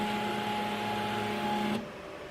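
A QIDI Plus 4 3D printer hums steadily and closely during bed calibration, then its motor tone cuts off abruptly near the end, leaving quieter room noise.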